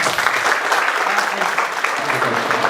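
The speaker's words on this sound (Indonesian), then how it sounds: "tepuk tangan buat kita semua" An audience at a vocational school guest lecture by Midea claps steadily, dense continuous applause from a room of people lasting the whole stretch, fairly loud and even.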